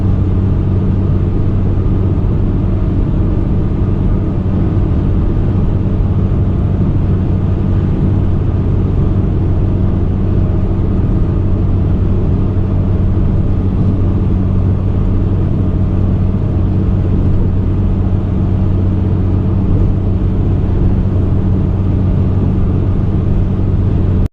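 Inside a straight-piped Ford Explorer Sport cruising at 70 mph with the windows up, a loud, steady low exhaust drone and road rumble fill the cabin without change, and nobody speaks.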